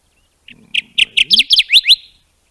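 A Kirtland's warbler, a fairly large warbler, delivers its song loud and close: a brief soft lead-in, then about eight bright, emphatic chirping notes in a quickening run, heard alone.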